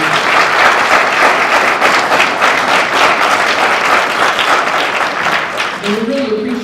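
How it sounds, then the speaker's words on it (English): A community session audience breaks into a sustained round of applause, dense clapping holding steady for several seconds, with a faint voice rising near the end. "Let's thank them with a round of applause."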